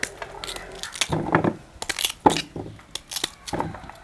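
Cassava pieces are cut with a knife in a home kitchen, giving a series of close, irregular crunching chops and thuds with short pauses between strokes.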